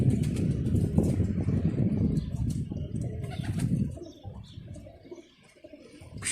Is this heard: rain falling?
no